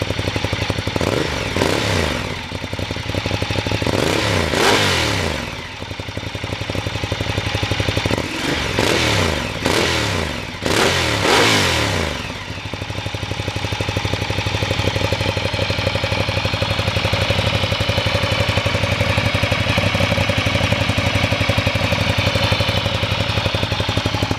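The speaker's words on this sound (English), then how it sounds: "Just give the throttle a couple of blips just so you can hear what that sounds like." A Ducati V-twin motorcycle engine idles with a lumpy beat, then gets several sharp throttle blips, each rising and falling quickly, before settling back into a steady loud idle, close up with no speech.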